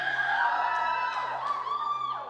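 A teenage audience in a church cheers, whoops and shouts together, a loud sustained burst of young voices filling the hall.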